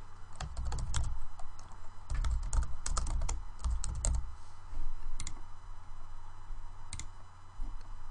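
Close computer keyboard typing as a name is entered for a new conversion: quick irregular key clicks in short clusters with brief gaps, heard alone.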